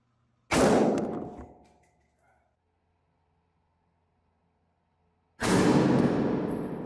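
Two loud, sharp rifle shots from an AR-15 platform firing 5.56/.223 rounds into stacked books in a classroom setting, the first ringing out and decaying over about two seconds, the second following after a long silent gap.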